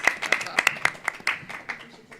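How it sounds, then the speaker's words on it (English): Scattered hand claps from a school board meeting audience after a resolution passes, a handful of sharp separate claps spread over two seconds and thinning out, moderately near in a meeting room. "We're clapping for money."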